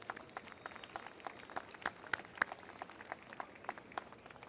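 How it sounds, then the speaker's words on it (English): Scattered applause from an outdoor crowd at an Armenian Genocide commemoration in Times Square, with sparse, irregular claps that sound faint and distant throughout. "Let's give them a round of applause."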